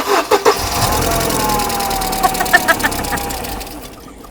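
A Mercedes car engine cranking, a few short sputtering bursts then a rough, knocking idle as it catches, heard close with a brief voice in the background.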